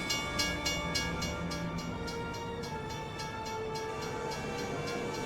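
A train rolls past a level crossing in a truck driving game set in Iowa, a steady loud rumble with rhythmic clicking wheel beats and a faint horn tone throughout.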